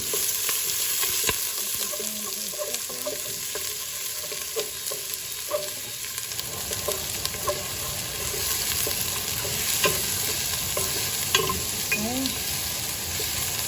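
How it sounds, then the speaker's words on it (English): Chopped onions and six cloves of garlic sizzle loudly in hot olive oil, a continuous close frying hiss broken by the scrape and clatter of a spoon stirring through the pan. "Okay, I already have this oil hot. Okay, onions right away, and 6 cloves of garlic."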